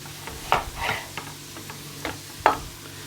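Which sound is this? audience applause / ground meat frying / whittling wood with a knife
ground meat frying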